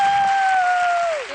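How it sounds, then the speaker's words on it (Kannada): A studio audience applauds on the Kannada television show Suvarna Super Jodi. The clapping is a steady wash, with a sustained whistle-like tone gliding slowly downward over it before the sound tapers off near the end. "ಚಪ್ಪಾಳೆ ಹೊಡಿರಿ."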